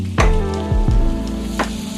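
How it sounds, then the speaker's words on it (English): Flour cooking in oil and butter in a pan, a loud close sizzle with bright frying crackles and a few clinks of stirring across two seconds. "now we're gonna add our flour"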